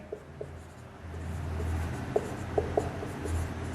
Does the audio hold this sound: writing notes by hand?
yes